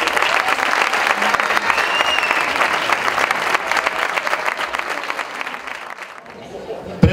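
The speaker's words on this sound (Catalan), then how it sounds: "un fort aplaudiment per l'Antoni" A crowd gives loud, sustained applause for Antoni at a disco anniversary gala, dense clapping running steadily for about six seconds before tapering off, with faint chatter and laughter mixed in.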